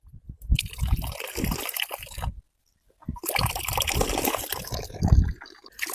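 Tap water runs into cupped hands, a close, splashy pouring that stops briefly midway and then resumes.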